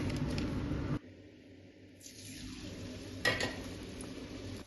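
Garlic peanut thattai dough dropped into hot oil, a close frying sizzle that cuts out briefly, then builds again into a steady crackling hiss with a short burst midway.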